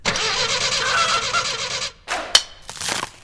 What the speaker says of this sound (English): whenever he tried to start his car